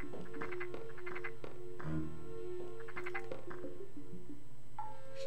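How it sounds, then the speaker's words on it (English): A small frog in Animal Crossing gives faint, clipped croaks in short repeated clusters, with soft chime-like game tones in a quiet background. "There's a little frog."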